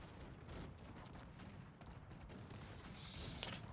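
Cannons fire during a Cossacks 3 battle with an England side, giving several sharp, booming volleys in quick, irregular succession, with a louder burst near the end and no speech.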